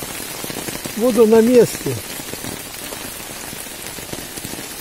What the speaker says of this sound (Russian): дождь то чуть-чуть прекращается, то опять усиливается